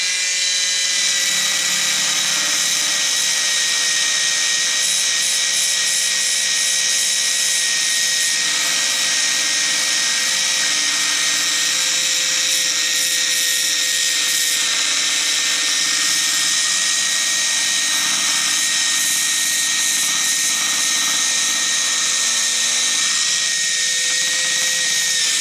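A Proxxon belt sander, converted from 240V AC to 12V DC, grinds old rusty metal with a steady high whine and abrasive rasp that runs continuously and loud throughout, with no talking.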